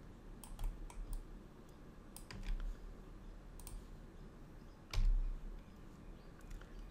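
Soft computer keyboard and mouse clicks come through during 3D modelling work, a few sharp isolated taps spread over several seconds against a quiet room hiss.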